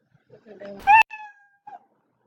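A single short cat meow sound effect, close and clear, followed by a fainter trailing mew.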